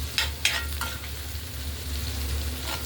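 Green peas fry in a pan for a home-cooked paneer dinner, a steady close sizzle with a few sharp scraping stirs near the start and the end.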